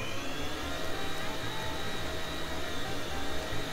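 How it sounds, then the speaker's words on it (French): A stand mixer whisks eggs and sugar at high speed, its steady whirring hum running continuous and fairly loud with no pauses. "vous allez fouetter pendant 5 minutes sur"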